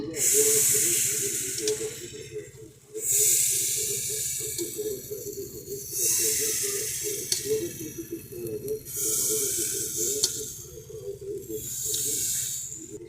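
Thin batter for a Bengali yogurt chitoi pitha hits a hot, oil-brushed pan with a steady hissing sizzle that swells and fades in repeated bursts. A low hum runs underneath.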